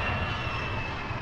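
A plane flying overhead in the video game Resident Evil Revelations just before it crashes, a steady loud engine drone with a low rumble that holds without a break.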